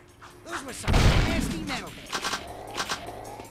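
Gunfire in the Jak 2 action game: a heavy blast followed by several quick, sharp shot bursts spread over a few seconds, loud and close.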